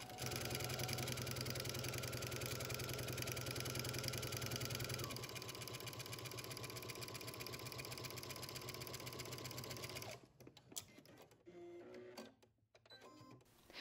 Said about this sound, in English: And then continue sewing down the entire length of the tie.